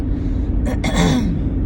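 Brief throat clearing from a woman undergoing chemotherapy, two short rough bursts close to the mic over steady low room hum.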